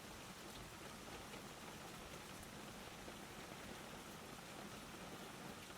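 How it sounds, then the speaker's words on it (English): Rain falls steadily on a greenhouse's glass roof, a soft, uniform hiss of drops that stays faint and unbroken throughout, with no voices. "the rain showing no sign of stopping."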